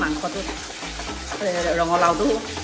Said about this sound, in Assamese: মাংসখিনি 10-15 মিনিটমান একদম ল' ফ্লেমত ভাজি আছোঁ